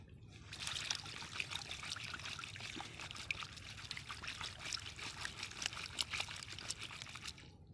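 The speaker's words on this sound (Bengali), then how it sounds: "মাছগুলোকে ধুয়ে নেই" Water trickles and splashes continuously over muddy tangra and lata fish as they are washed, a close, even stream running with no break from start to finish.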